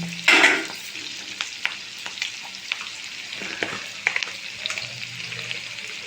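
Capsicum and chillies stir-frying in a pan, a loud initial sizzle burst settling into steady frying hiss, punctuated by regular scraping and tapping stirs close by.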